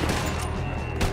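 Gunfire rings out in Red Dead Redemption 2 during a fight against army troops, dense and loud, with a continuous barrage and a heavier burst near the end.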